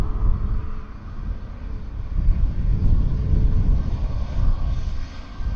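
A Ryanair airplane at Dublin Airport makes a continuous broad engine roar and low rumble that swells and holds steady throughout, heard from outdoors.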